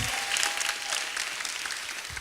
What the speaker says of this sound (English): Let's get Ernie G another round of applause, please